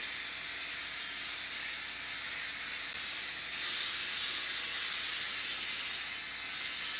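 A handheld steamer gives a steady, close hiss of steam over decoupage paper throughout, swelling slightly louder midway and continuing without pause.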